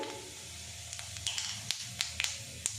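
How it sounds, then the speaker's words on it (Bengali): Whole cumin seeds hit hot oil and sizzle softly, with a low steady hiss broken by faint scattered pops and crackles. "এই তেলের মধ্যে সামান্য পরিমাণে গোটা জিরে দিয়ে দিলাম।"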